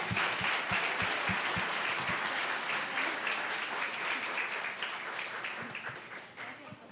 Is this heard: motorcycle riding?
no